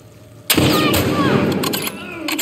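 Rifle gunfire in The Last of Us Part 2: after a quiet lead-in, a loud sudden burst of shots, followed by further sharp cracks and a ringing, echoing tail.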